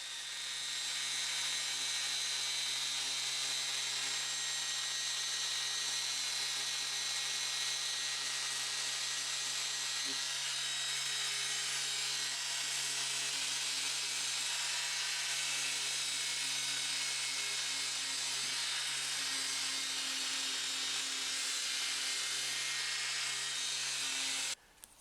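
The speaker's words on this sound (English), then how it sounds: "A sander like this is a good tool for this job because it removes material quite slowly" A triangle sander runs steadily and loudly for about 25 seconds, sanding curb rash off a BMW Z4 Coupe wheel rim with 60 grit paper. The high, even whine cuts out abruptly at the end.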